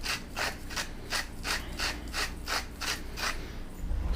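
Pink Himalayan salt being ground in a salt grinder, a steady run of rhythmic ratcheting crunches about twice a second, close and alone without talk.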